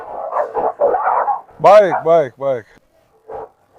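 A blue Cane Corso barks aggressively in three or four loud, close, harmonic woofs, with a softer yelp trailing after; someone talks over the start in a calming tone.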